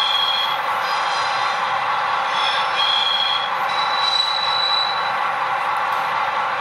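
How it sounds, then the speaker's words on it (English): Flange squeal from a Rapido SW1200RS model locomotive in Canadian National livery: thin, high metallic squeals rise and fade over a continuous rolling hiss, with several separate squeal bursts coming one after another at a steady, fairly loud level. "Is flange squeal."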